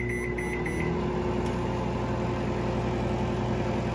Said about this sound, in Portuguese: Agora vamos levar ao micro-ondas em potência máxima por 3 minutos.